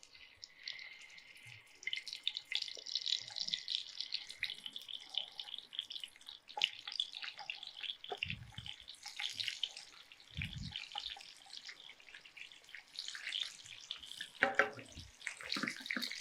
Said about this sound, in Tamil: அந்த எண்ணெய் சூடானதுக்கப்புறம் நம்ம என்ன செய்ய போகிறோன்னா, நம்ம வச்சுருக்கிற இந்த மீன் இருக்கு இல்லையா, இதை அப்படியே சேர்த்துலாம்